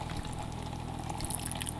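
Liquid splashed into a sauce while cooking makes a steady, close pouring hiss that runs evenly for a couple of seconds with no talk.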